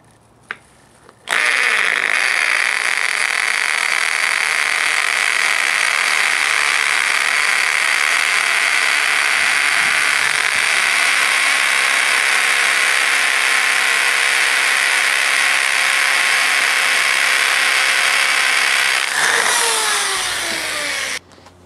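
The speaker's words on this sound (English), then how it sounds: "this is a half inch drill bit" A corded power drill with a half inch bit bores into a cement sidewalk, a loud steady whining grind sustained for about eighteen seconds after a sharp start, then spinning down, with no talk.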